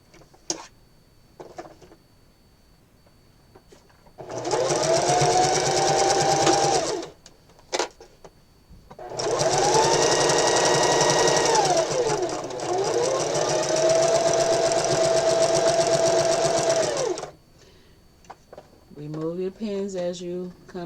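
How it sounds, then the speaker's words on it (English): Sewing machine running a straight stitch through fabric for a pants seam, with backstitching at start and end: three sustained loud whirring bursts of steady rapid needle chatter, separated by pauses, with brief handling clicks and a voice near the end. "straight stitch, back stitching at the beginning and the ending"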